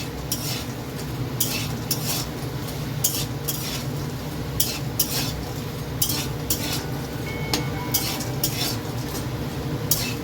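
Bori lentil dumplings fry in a pan with a steady low sizzle, while a utensil scrapes and stirs in repeated short bursts throughout, close and moderately quiet.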